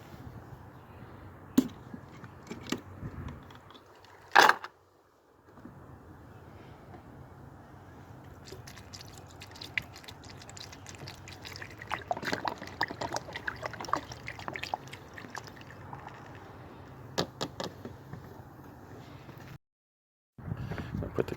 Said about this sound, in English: All right, let's add the motor flush.